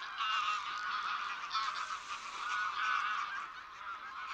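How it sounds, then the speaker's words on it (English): A flock of wild geese honks in a continuous, overlapping chorus at Villafáfila in Spain, heard at a moderate distance with no voices. "the sky is full of wild geese"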